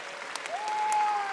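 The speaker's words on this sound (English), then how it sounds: "A lot of Russian fans here cheering" Spectators applauding after a karate bronze medal match in Moscow, a soft, distant patter of clapping from the arena crowd with a faint sustained tone running through it.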